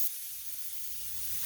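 Spray gun applying lacquer primer at low air pressure over dent repair on a vehicle panel: a steady, even hiss with no pauses, close and constant throughout.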